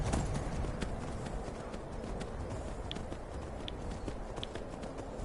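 Steady clip-clop of horse hooves at a quick pace in the video game Skyrim, over a dense, noisy background, with faint chiming tones now and then.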